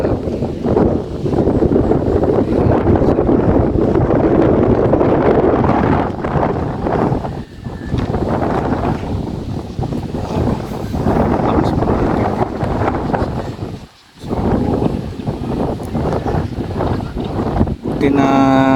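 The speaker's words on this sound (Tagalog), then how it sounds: "Yan, kita nyo yung hangin." Strong wind at a house, strong enough to nearly tear off the roof, roars and buffets continuously, loud and close, with gusts rising and falling and voices faintly underneath.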